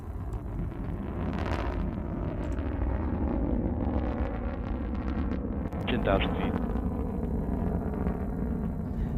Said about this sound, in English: That beautiful burn on that BE-3 engine lifting New Shepard towards space.